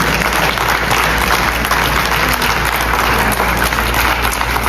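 Loud, continuous audience applause at an Awadhi folk play event staged by Bhartendu Natya Akademi, a thick unbroken wall of clapping filling the whole stretch.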